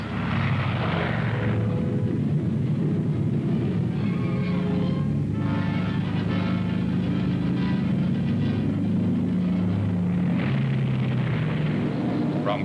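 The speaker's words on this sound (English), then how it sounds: "From Guam, the B-29s took off for Okinawa" B-29 bomber aircraft take off from Guam, their piston engines producing a loud, continuous droning roar that swells and fades slightly.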